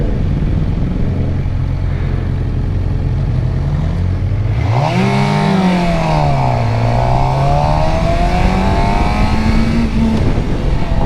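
A Suzuki GSX-R 600 sport bike on a group ride alongside a Yamaha R6 and R1, with a loud, constant engine drone and wind rush, and revs rising and falling through gear changes as bikes pull away.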